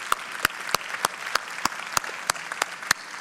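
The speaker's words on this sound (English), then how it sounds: "let's give Robert one more round of applause." Applause from an audience at a franchise convention keynote, a smaller group clapping with a few sharp, prominent individual claps rising above the softer background patter.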